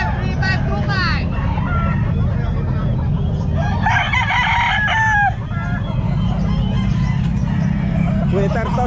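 A Sweater gamefowl rooster at a Calumpit pet market crows close by, once early and again more fully midway, amid a steady low market rumble and voices nearby.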